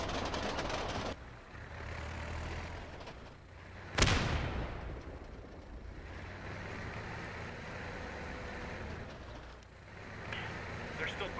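A single sharp grenade blast bursts out in a video game battle amid a steady rumble of vehicles and distant fire, with voices talking throughout.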